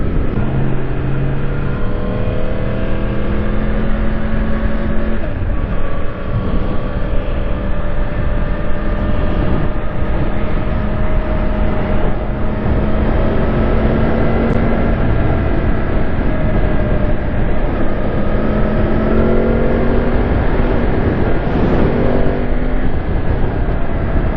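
Stock-exhaust motorcycle engine running steadily and loud throughout, its harmonic drone shifting slightly as revs change, with no talking.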